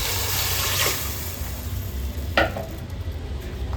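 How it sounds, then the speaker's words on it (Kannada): Water poured into a pot of goat legs fried in ghee for paya soup, a low bubbling rush with a couple of sharp clanks of pot and utensil, no voices. "2 ಲೀಟ್ರಷ್ಟು ನೀರು ಸೇರಿಸ್ಕೊಳ್ಳೋಣ"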